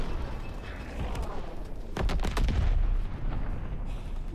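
Gunfire in the World War II shooter Call of Duty WW2, a burst of several sharp reports around the middle with booming low rumble, loud and close amid a dense game soundscape.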